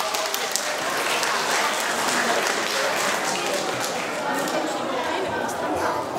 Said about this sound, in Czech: zatleskáme jim.